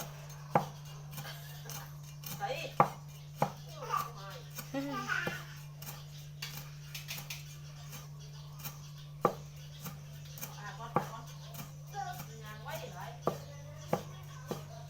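A knife chops fish on a board for Isan-style laab, giving sharp, fairly regular thwacks at close range, with people talking over the work.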